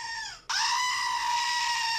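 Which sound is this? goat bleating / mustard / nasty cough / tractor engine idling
goat bleating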